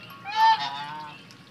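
A single loud, honking duck call rings out close by at a duck house in Dhruv Park, Pathankot, against faint background noise.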